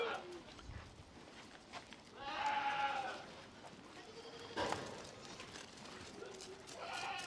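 Barbari goats bleating on a goat farm, a few scattered calls across the stretch, moderately near, with people talking among the animals.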